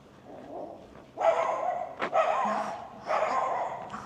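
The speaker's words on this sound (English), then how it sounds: "Tiny dog, big bark." A small dog barks in short bursts, two longer runs of sharp, fairly loud yapping with a brief pause and a single bark between, heard alone without talk.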